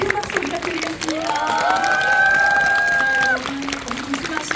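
Audience applause for two guests, a film director and actor, at a Korean movie screening Q&A, a dense sustained crowd clapping with some cheering and a held tonal whoop rising over it in the middle.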